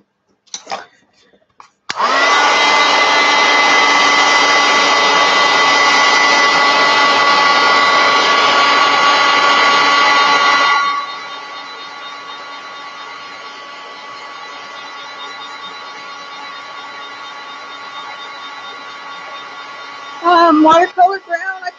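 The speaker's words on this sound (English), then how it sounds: "Dry it with a hair dryer." A hair dryer dries paint on a mixed-media journal page: a loud, steady whirring blast that drops to a quieter, lower setting partway through. It then cuts off near the end, leaving brief handling noises.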